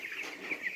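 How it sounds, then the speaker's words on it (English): Cornish Rock cross meat chickens, a flock of over 300 broilers in a barn, giving soft clucks and chirpy calls, faint and brief with a few overlapping notes. "the flock of 300 plus Cornish rock cross meat chickens that are being raised for poultry production"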